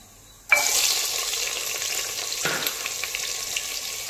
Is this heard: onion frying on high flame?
yes